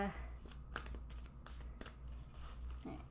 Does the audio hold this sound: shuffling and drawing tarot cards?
yes